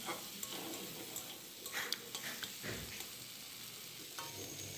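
Cubed potatoes stirred in a hot frying pan, a soft steady sizzle with light scraping clicks of the spatula scattered throughout, close and fairly quiet.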